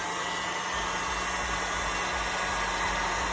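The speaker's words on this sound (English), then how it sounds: "I like to use a heat gun." Heat gun blowing hot air while repairing a Makita 6303H cord, a steady loud whooshing roar with a faint motor hum, constant throughout without a break.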